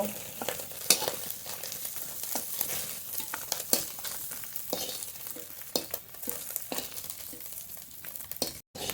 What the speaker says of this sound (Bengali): একটু ভালো করে ভেজে নেব এই মাছগুলো